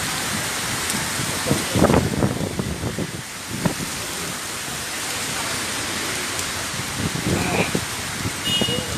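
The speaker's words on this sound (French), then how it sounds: "On est sous la pluie." Steady rain hisses in the background while yellow-vest protesters talk and move about nearby at the Pringy toll plaza, with occasional knocks and rustles.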